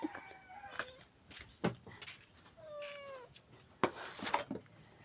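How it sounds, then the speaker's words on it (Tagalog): A cat meows several times in short, rising calls, mixed with other clucking animal sounds nearby. "Ate pusa nga dumawdawat."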